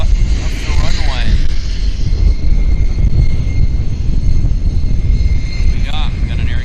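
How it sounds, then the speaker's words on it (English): Air Canada Boeing 737 Max jet taxiing and lining up on the runway at Vancouver airport, a steady broadband engine roar with a whining tone, sustained throughout at moderate loudness with wind noise. "We got an Air Canada Max turning on the active, heading to Calgary"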